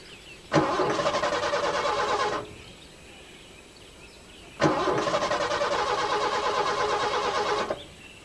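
A breakdown vehicle's engine cranks and catches in two loud, close bursts, each roaring steadily for about two seconds before cutting out, with a short gap between them.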